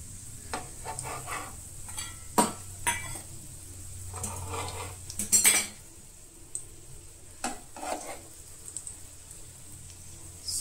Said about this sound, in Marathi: हांगसर आतां आमी सुशेगाद अशें टर्न करून घेवया. स्लोली अशें टर्न करा एक एक करून.